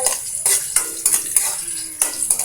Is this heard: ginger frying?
yes